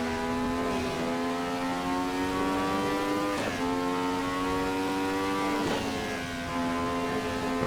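A Nissan NP35 race car in Assetto Corsa accelerating under full throttle, its engine note rising steadily and cut by two or three quick upshifts, loud and continuous with no talk.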